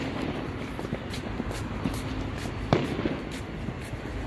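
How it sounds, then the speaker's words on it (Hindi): Scattered firecracker pops and crackles at a distance in Ayodhya, India, over a steady outdoor rumble of road traffic, with a sharper bang partway through. "पटाखे चल रहे हैं"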